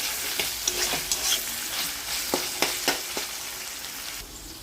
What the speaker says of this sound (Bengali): পেঁয়াজ আর চিকেনটা দিয়ে একটু ভেজে নেব।